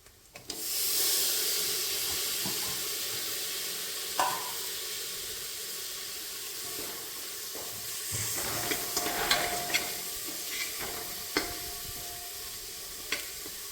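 Vegetable biriyani masala with freshly added tomato fries in a pan, a steady close sizzle and hiss with intermittent scraping of a spoon stirring through it.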